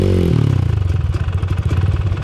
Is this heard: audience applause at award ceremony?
no